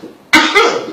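A man gives a single short cough, a sharp burst followed by a brief second push, close and loud against quiet.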